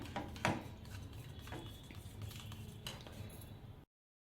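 A metal spoon stirs aloe vera gel into a homemade hair mask in a bowl, giving soft scraping swirls and a few sharp clinks against the rim, close and quiet, ending abruptly.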